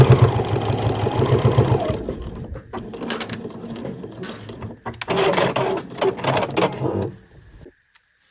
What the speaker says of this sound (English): And then just keep sewing all the way to the end.